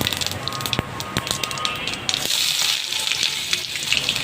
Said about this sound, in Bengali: আলু ভেজে রাখা তেলের মধ্যেই আমি দিয়ে দিচ্ছি একটা তেজপাতা গোটা জিরা